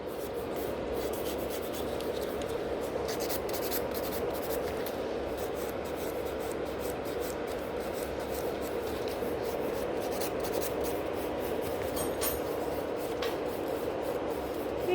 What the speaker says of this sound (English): So I'm just filing